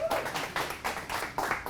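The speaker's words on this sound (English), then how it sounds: "Give them a big round of applause." At an NSA Houston speaking event, an audience gives a quiet, fairly close round of applause, with individual claps standing out in a quick, uneven rhythm and no talk.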